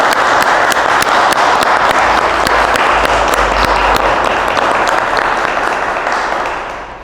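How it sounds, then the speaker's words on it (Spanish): Dense audience applause rolls on steadily at a Spanish-language literary presentation, loud and sustained clapping throughout that begins to fade in the final second. "Les damos un aplauso, por favor."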